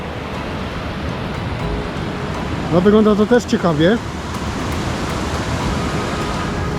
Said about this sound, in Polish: No i jesteśmy na górze wodospadu.